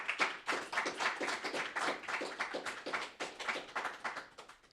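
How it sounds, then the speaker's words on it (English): Audience applause for speakers and panelists at a student tech education conference, a soft, fairly distant patter of clapping hands with an even, continuous rhythm and no talk. "I want everyone to give all of our speakers and all of our panelists another big round of applause"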